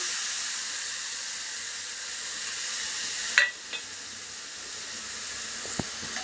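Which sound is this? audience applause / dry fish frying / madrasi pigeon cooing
dry fish frying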